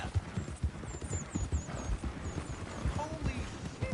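A horse gallops in the video game Red Dead Redemption 2, with fast, close hoofbeats thudding in a quick rhythm alongside faint whistling tones and brief vocal sounds.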